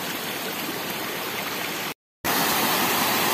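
A waterfall on private land in the caatinga of the Brazilian sertão pours with a constant broadband rush, loud and steady, briefly cut by a split-second gap before the roar resumes.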